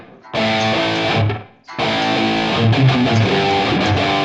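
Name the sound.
electric guitar playing a verse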